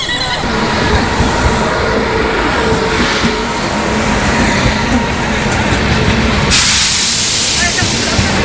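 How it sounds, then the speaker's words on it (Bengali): Radhikapur–Kolkata Express pulling into Raiganj station: a steady, loud rumble and hiss of the train that continues throughout, with a brighter hissing burst near the end. "ট্রেন বিফোর টাইম ঢুকে গেল রায়গঞ্জ স্টেশনে।"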